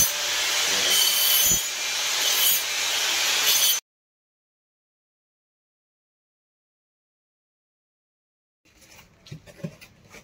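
Wood being rubbed and shaped into a round, a loud, dense abrasive scraping close by for a few seconds, then silence, followed by faint scattered rubbing sounds.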